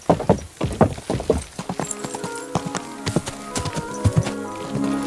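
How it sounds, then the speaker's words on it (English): Horse hooves clip-clop in a steady walking rhythm in the medieval game Kingdom Come: Deliverance 2, close and clear, with tack jingling lightly and no voices over the hoofbeats. "Easy, good horse."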